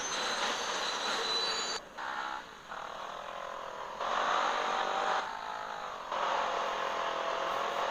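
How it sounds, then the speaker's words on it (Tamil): Loud, steady rumble and clatter of a passing train with squealing wheels in an Indian driving video game, cutting in and out in several segments; no voices. "டேய் ட்ரெயினே நிறுத்து டிரைவர், வண்டியை நிறுத்து"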